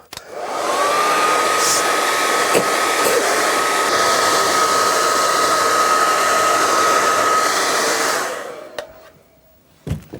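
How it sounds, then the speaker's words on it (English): A hair dryer runs alone at close range, blowing to dry black gesso paint in an art studio: a loud steady whoosh with a constant whine that cuts off near the end, followed by a few small knocks. "I'm going to get a hairdryer."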